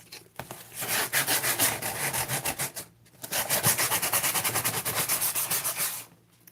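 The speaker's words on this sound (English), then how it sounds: "Can I sand off all this?" Rapid back-and-forth sanding on a cosplay prop, two long steady runs of rhythmic rubbing strokes, close and fairly loud, separated by a short pause, with no talking.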